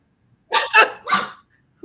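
A dog barks and whines in three quick, close, loud bursts, directed at an empty water jug indoors.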